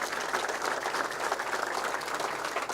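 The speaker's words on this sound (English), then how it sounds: "Everybody give Mike a cheer just in case he's here." An audience at a talk by Irish Taoiseach Enda Kenny in Seattle applauds and cheers for Mike, with steady, dense clapping that fills the room throughout and stays loud from start to finish.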